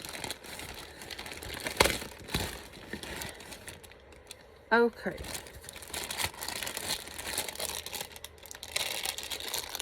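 Toy package wrapping torn open by hand, a few crinkling rips with one sharp tearing burst in the middle, under a quiet room and brief talk.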